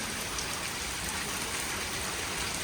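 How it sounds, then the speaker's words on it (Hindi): Heavy rain falls steadily in a Pakistani village, making a dense, continuous hiss of drops on surfaces with no pauses and no voices. "बड़ी ज़बरदस्त बारिश चल रही है।"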